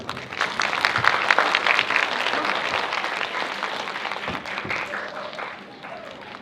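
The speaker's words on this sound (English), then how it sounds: "Everybody, let's give them a big hand." Audience clapping at a school English performance, a dense, steady round of applause from a crowd in a hall that gradually thins toward the end, with faint voices mixed in.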